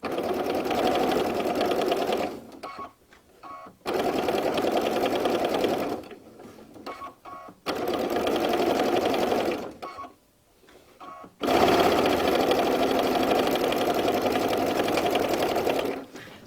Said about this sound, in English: I have sewn the zipper all the way around the top